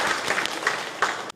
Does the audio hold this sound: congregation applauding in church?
yes